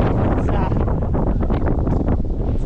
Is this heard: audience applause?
no